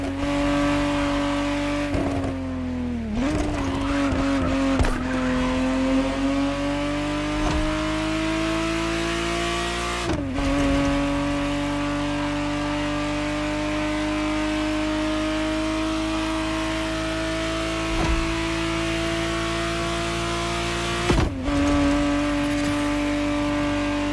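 A 1991 Ferrari Testarossa 512 in the racing game Motorfest holds a steady, loud engine drone, shifting pitch through a few gear changes with sharp dips near the start, around ten seconds and again past twenty.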